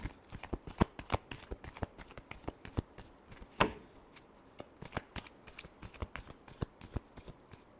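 Tarot cards are shuffled by hand in a rapid string of crisp riffling slaps and snaps, close and clear, with one longer shuffle flurry midway and no talking.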